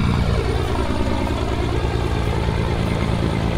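A heavy truck engine in Euro Truck Simulator 2 drones with a steady low, thumping throb that resembles a helicopter, loud and continuous with no talk over it.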